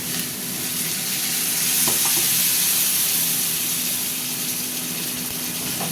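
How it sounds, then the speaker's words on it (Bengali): Ground coriander and cumin spice paste frying in a pan after a splash of water, a loud continuous sizzle with a couple of utensil knocks and stirring, for a vegetarian pointed gourd curry, no talking. "এবার এর মধ্যে একটু জল দেবো, মশলাটা কষবো তো জল দিতে হবে।"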